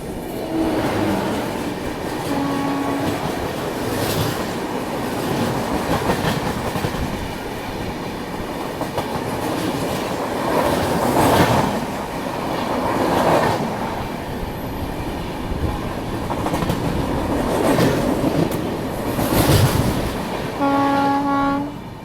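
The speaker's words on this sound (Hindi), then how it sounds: "अभी तेलंगाना एक्सप्रेस के साथ क्रॉसिंग जो है वो होने वाली है अपनी" The Telangana Express rolls past on an adjacent track while the Tirupati–Jammu Tawi Hamsafar Express waits at the crossing, its horn sounding at the start and end over a steady rumble and clatter of passing cars.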